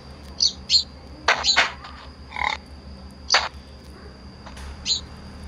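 Bird chirping in the Minecraft video game: short, fairly faint high chirps come in scattered bursts of one or two notes over quiet background hiss.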